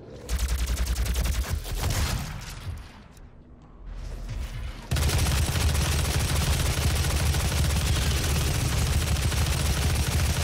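Gauss cannon weapon fire in the video game Doom, a loud continuous barrage of gunfire-like blasts, with a brief quieter lull before a sustained, dense roar of shots fills the rest.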